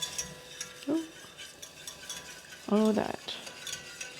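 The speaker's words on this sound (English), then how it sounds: "you're just going to whisk that until it's all thickened" Flour and milk sauce whisked in a pot on the stove, soft repeated scraping and stirring strokes with a couple of sharper metallic clinks, close by, with a brief spoken remark.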